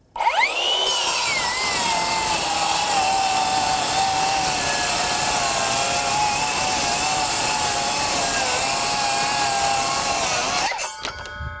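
A Metabo HPT MultiVolt C36 7-1/4-inch rear-handle cordless circular saw on a 2.5 Ah battery spins up with a rising whine, then cuts steadily through wood with a loud, sustained buzzing drone before winding down.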